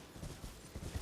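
Horse hooves clip-clop at a gallop in the video game Elden Ring, a quiet, rapid rhythmic thudding with no talk.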